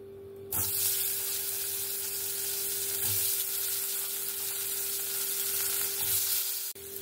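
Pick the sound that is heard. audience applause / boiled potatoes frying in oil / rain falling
boiled potatoes frying in oil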